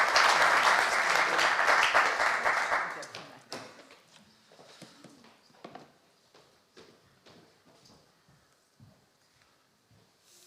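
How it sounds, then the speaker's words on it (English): An audience at a science policy session gives a round of applause that fades out after about three seconds, followed by quieter room sounds, scattered footsteps and talking. "You can also give him a warm round of applause."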